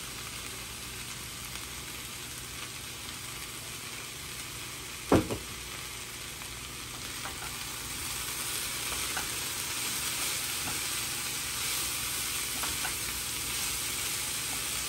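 Long beans frying in a pan with turmeric and salt give a steady hiss throughout, broken by one sharp clack of a spatula near the middle as they are turned.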